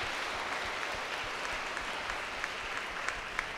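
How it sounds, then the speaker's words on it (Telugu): A church congregation in Rentachintala, Guntur, claps in praise of God, producing an even, continuous wash of many hands at a moderate distance for a few seconds. "గట్టిగా చప్పట్లు కొట్టి దేవునికి స్తోత్రం చెల్లించుకోగలరు"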